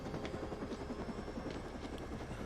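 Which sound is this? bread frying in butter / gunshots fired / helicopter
helicopter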